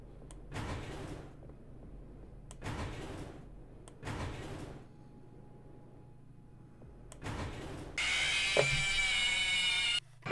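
In the Five Nights at Freddy's 6 game, a door slides shut five times in heavy mechanical whooshes with a low hum between them. A loud, bright electronic tone then comes in and holds to the end.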